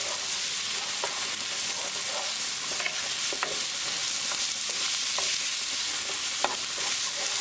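Onion fries with garlic in a pan for baingan bharta, a dense, even sizzle broken by regular scraping stirs, close and continuous, with no one speaking.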